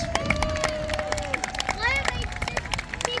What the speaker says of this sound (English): Come on audience, give a cheer,